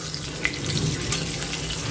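Cumin seeds with cardamom, cinnamon and clove sizzle softly in hot mustard oil, a faint, steady crackle with a few small pops, heard close and alone.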